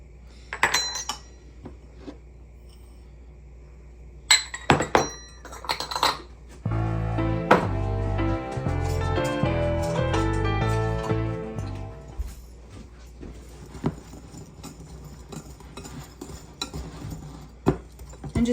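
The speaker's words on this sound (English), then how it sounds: "But to start, we're going to mix all of the dried ingredients together." Dry biscotti ingredients are stirred together in a bowl, with scattered clinks at first, then a dense run of rattling, scraping utensil-on-bowl clatter in the middle before it thins out again, close and fairly loud with no talking.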